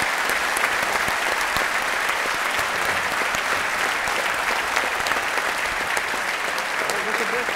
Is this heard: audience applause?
yes